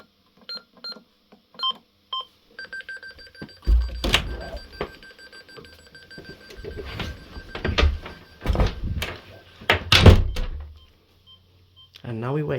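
An intruder alarm keypad beeps in a series of short tones while it is being set, followed by a steady tone, footsteps and door sounds as someone leaves the room, with speech throughout.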